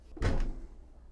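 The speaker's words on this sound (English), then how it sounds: "Close the door." A bathroom door in a small Class C RV, a Leisure Travel Vans Unity FX, swings shut with a single close, dull thud and brief rattle, then quiet.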